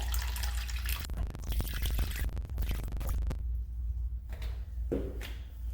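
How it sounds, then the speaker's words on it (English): Water draining from a waterless urinal, with air bubbles gurgling up through the drain: a loud rushing, splashing flow that drops away partway through, followed by a few close bubbling glugs. "You're listening for those air bubbles."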